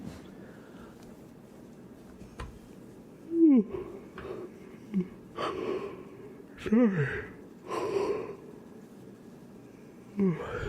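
A drawn-out human yawn with breathy, sighing exhales and a few squeaky vocal rises, surfacing in bursts over about ten seconds in a quiet, close-miked ASMR setting.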